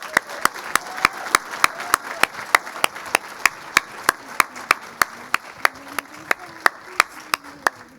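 Slow, regular hand clapping at the 2015 Women's Achievement Awards, sharp evenly spaced claps over a soft crowd murmur, sounding like one or a few people near the front rather than a full audience.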